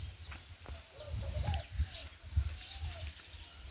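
Chickens and roosters on a Ukrainian farm in Poltava region, including Araucana birds, clucking and low murmuring calls close by amid rustling farmyard noise.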